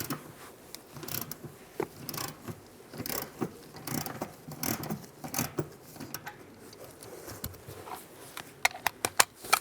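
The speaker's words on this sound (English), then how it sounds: "Now using an E14 socket, we're going to take this bolt out right here" A ratchet with an E14 socket works a bolt loose during an EVAP core replacement on a 2007-2013 Chevrolet Silverado: close, fairly quiet bursts of irregular clicking and metallic mechanism noise, with no talk.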